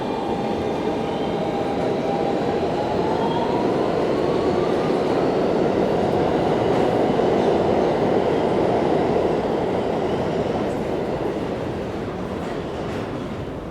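NYC subway train rolling between Times Square–42nd Street and Chinatown, a loud steady roar of wheels and car rumble heard from inside, with a rising wheel squeal partway through and faint clatter.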